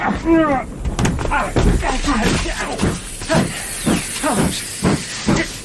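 A moving steam train in a radio drama gives off steady hissing and rumbling, with rhythmic bursts of steam and clanks running close under voices throughout.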